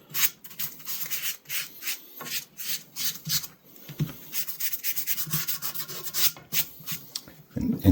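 Sandpaper rubbed by hand along a wooden walking stick, a close, rhythmic scratching in repeated back-and-forth strokes with brief pauses between passes, heard alone.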